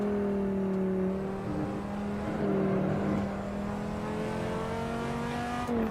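A V10 car engine in Assetto Corsa holds a steady drone and shifts pitch up and down as it revs through the gears, continuous and moderately loud.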